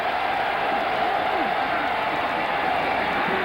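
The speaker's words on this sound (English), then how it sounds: "Listen to this crowd." Football stadium crowd at an Alabama Crimson Tide versus Mississippi State game, a steady roar of cheering fans filling the air under faint voices.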